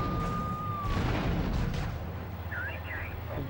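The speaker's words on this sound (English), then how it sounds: "Suspect is in a black tank. The gun is not all that effective." Tank cannon fire in Grand Theft Auto 3 on PS2, a heavy boom with rumbling tail over steady game ambience and a brief whistling tone, with a few faint chirps later.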